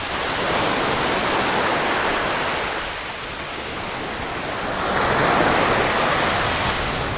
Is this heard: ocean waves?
yes